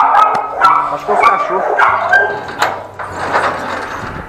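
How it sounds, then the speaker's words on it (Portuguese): Two dogs on a street barking and yipping in quick, excited bursts close by, with whimpering between barks and a steady low hum underneath. "De onde apareceu esses dois cachorros?"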